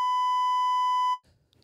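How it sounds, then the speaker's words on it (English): A loud, steady censor beep, a pure electronic tone held for just over a second to bleep out a spoken word, then cutting off abruptly into faint room noise. "Nobody heard that because I beeped it out"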